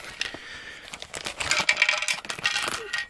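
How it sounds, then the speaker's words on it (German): Small Raspberry Pi case accessory rattling loose inside a plastic bag, a busy run of close, light clicking and clattering with bursts of plastic crinkle, no voices. "Und das, was jetzt hier klappert, das ist nicht etwa ein kaputtes Gehäuse, sondern das ist in der Tüte so drin."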